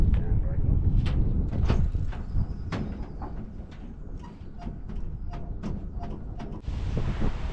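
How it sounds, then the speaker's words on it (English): Strong wind buffets the microphone on a cold day, a continuous rushing roar with gusts that swell and fade. Sharp clicks and knocks from nearby work sound through it. "Really, really windy today and very cold."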